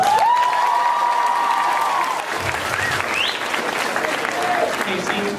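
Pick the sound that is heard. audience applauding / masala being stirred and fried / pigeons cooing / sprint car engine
audience applauding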